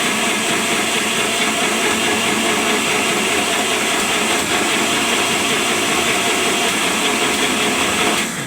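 A kitchen blender crushes ice for cold coffee at home, a loud, continuous, harsh whirring grind that holds steady for several seconds without talking.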